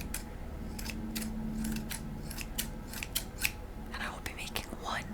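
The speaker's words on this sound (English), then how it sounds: "I will be making one small but precise snip in this here tail region." Scissors make a few crisp snips into origami paper at close range in a quiet whispery setting, with short paper rustles and clicks in between.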